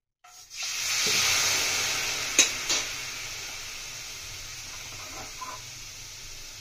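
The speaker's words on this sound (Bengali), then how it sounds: "আমাদের জলটা ফুটে গিয়েছে" Water in a pot for steaming potato kulcha boils and hisses steadily, a broad steam hiss that fades gradually, with a couple of faint clicks and no talk.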